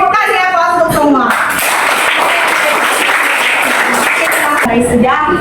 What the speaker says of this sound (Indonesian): ibu kasih aplaus untuk semua